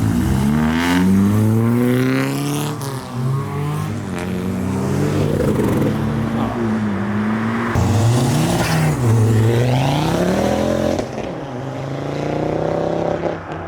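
Modified cars rev loudly as they pull away from a Japanese car meet in Reading. Close engines climb and fall in pitch over and over, with overlapping throttle blips and accelerations and no talking.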